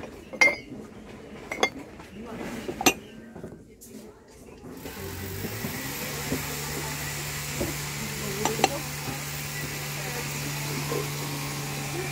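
Crockery and cutlery clink in a few sharp, separate taps inside a store, close by, before a steady mechanical hum takes over under scattered faint knocks and nearby talk.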